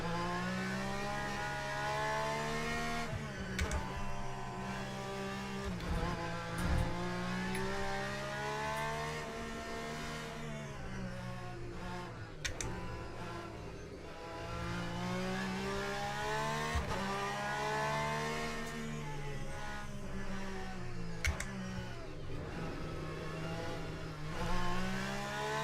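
A Porsche race car in the Le Mans Ultimate racing game, its engine rising and falling steadily through gear changes as it revs and accelerates, with tyre noise underneath and no talking.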